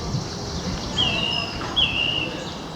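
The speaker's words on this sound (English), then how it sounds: "can now hear the song thrush" A song thrush singing in the sun along a countryside walk, two thin, high whistled phrases rising above a steady background hiss, fairly distant.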